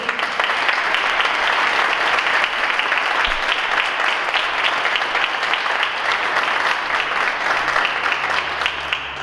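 A full room breaks into loud, steady applause for a speaker being welcomed at a talk on institutional violence, dense clapping holding evenly for about nine seconds.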